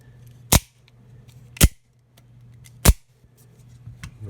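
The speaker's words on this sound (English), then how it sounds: "there is something really satisfying about the machinery going into place on and out the front when we click it" Out-the-front automatic knife firing its blade out and snapping it back, three sharp mechanical clicks spaced about a second apart, close and crisp over a low steady room hum.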